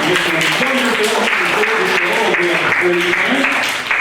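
An after-prom hypnotist show crowd applauds loudly and continuously for about four seconds, with voices and tonal sound running beneath the clapping before it dips at the end.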